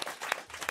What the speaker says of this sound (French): On peut applaudir Jean-François Bernardini